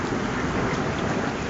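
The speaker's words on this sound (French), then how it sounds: "mais là l'orage se déchaîne par là-bas." Torrential rain pours over a public garden during a thunderstorm, a dense, steady hiss with no pauses and no voices.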